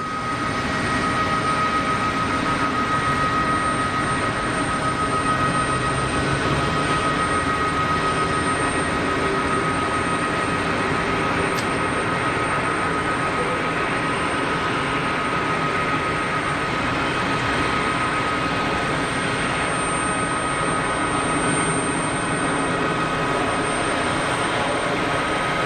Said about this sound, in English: the Turkish 321 Neo on a couple-mile final now